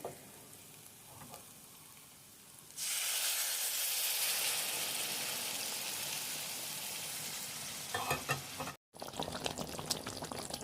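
Water poured into a pan of frying potato and pointed gourd curry brings a sudden loud, steady hissing surge that holds for several seconds, broken by a brief gap and then stirring rattles.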